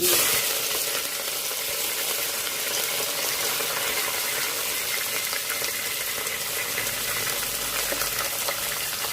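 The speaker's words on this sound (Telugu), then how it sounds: "ఉల్లిపాయలు ఫ్రై అయిపోయినాయండి" Onions fry in a pan with mustard seeds, bay leaves and green chillies for goat head curry, a dense, loud, unbroken sizzle with faint crackles throughout.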